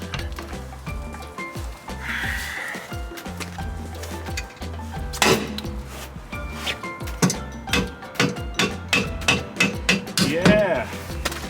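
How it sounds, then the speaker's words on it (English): Repeated metal hammer blows on the steel around a bolt on a Toyota Celica rear subframe, coming in irregular bursts and then a faster run of close, sharp clanks, with some clatter and brief talk. "I'm not hitting the bolt directly, I'm just hitting the metal around it"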